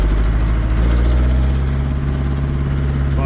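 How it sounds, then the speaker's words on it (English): A small four-cylinder air-cooled Deutz diesel tractor engine idles steadily close by, a loud, even low rumble with a constant throb and no speech over it. "Little 4-cylinder air-cooled Deutz engine."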